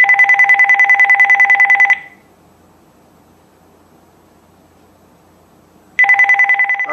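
A telephone rings on a call-in show for an incoming caller. Loud, close, rapid warbling bursts sound for about two seconds, then silence, then the ring starts again.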